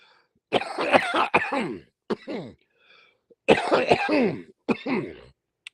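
A person coughs repeatedly in several harsh, close bursts, with short pauses between fits.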